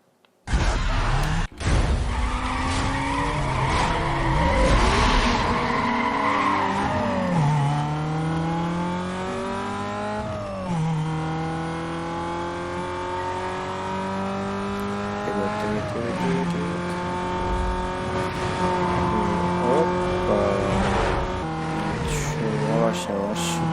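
Race cars in the Need for Speed Most Wanted video game roar continuously for the whole stretch, engines revving and shifting with rising and falling pitch, tires squealing, with game music and effects layered over them.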